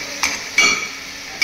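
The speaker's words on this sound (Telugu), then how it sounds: "ఇంకా బాగా కలపాలి." Large chunks of food being stirred in a pot while cooking, giving a few soft scraping knocks against a steady sizzle-like hiss, with no talk.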